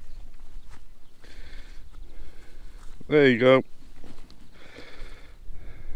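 A moo tube toy, a cylinder that lets out a cow's moo when tipped, gives one short lowing bleat in the middle, close and fairly loud, between spoken remarks outdoors during metal detecting in an English village.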